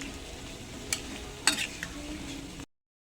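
Asado stew simmering in a pot, with a soft continuous bubbling sizzle and a few sharp clinks and scrapes of a utensil stirring against the pot before the sound cuts off.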